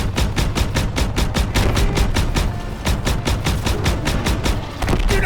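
Rapid gunfire in the World War II shooter game Call of Duty WWII, loud bursts of shots firing in quick succession, with brief pauses and continuing bursts to the end.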